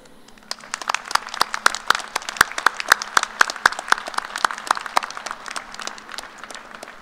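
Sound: commencement audience applauding families and friends

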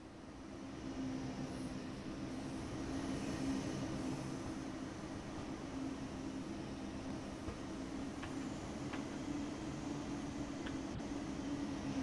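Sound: train in motion in the video game Train Sim World 2

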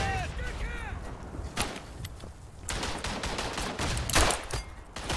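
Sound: gunfire in the video game Verdun

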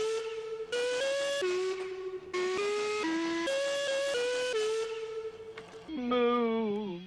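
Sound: loud long whistling

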